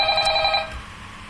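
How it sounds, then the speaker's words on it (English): A phone rings in a Minecraft Five Nights at Freddy's roleplay: one short electronic ring that stops abruptly, leaving quiet background. "Oh, finally the phone message."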